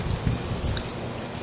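A heavy torrential downpour at the start of hurricane season gives a steady, dense roar of rain with a constant hiss and no gaps.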